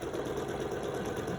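A sewing machine runs steadily, stitching a narrow strip onto a log cabin quilt block, a continuous close mechanical hum with no pause through the short stretch.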